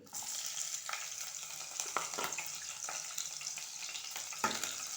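Green chilies dropped into hot oil for a chicken curry, a dense close sizzle and crackle with occasional spatula scrapes and small pops, steady throughout and fairly faint, with no talking.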